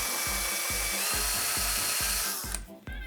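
A power drill spins a bit into a wooden sword prop in short repeated bursts, each pulse grinding and whining loudly before the motor cuts off abruptly near the end.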